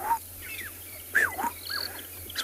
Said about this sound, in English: Black-headed oriole.